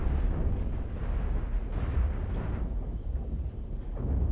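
Ship cannons fire constantly with rumbling explosions in the Cosmoteer space ship building game, a dense, continuous low barrage with no talking.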